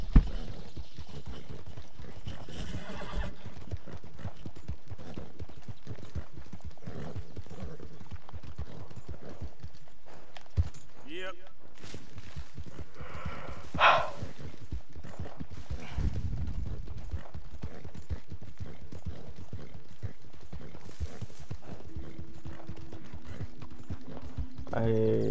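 Horse in the Red Dead Redemption 2 video game, steady clip-clop of hooves running throughout with a brief neigh, under occasional speech and game sounds.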